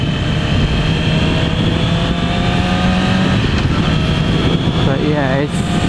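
A loud motorcycle engine and exhaust drone steadily while riding, close and continuous, with a shift in pitch and rising revs near the end; no talk over it.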